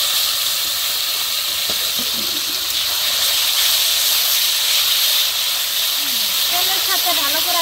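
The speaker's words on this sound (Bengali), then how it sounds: "এখন দিব আদা, রসুন, পেঁয়াজ একসাথে বাটা আর দিব টমেটো পেস্ট।" Ginger, garlic, onion and tomato paste hitting hot oil in a village-style egg curry pan, a loud continuous hiss and sizzle held steady throughout, with a faint voice beneath it.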